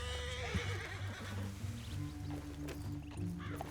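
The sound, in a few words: horse neighing in video game Red Dead Redemption 2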